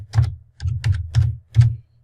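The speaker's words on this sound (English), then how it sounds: "So you would type NIGHTS" Five distinct bursts of keys being typed on a computer keyboard, entering an access code, each a quick cluster of clicks with short pauses between, close and clear with no talking.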